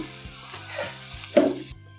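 Tempering spices crackling and sizzling in oil in a pan while slow-roasting for a silk squash chutney, a steady close frying hiss with small pops and a brief louder spatter before it stops.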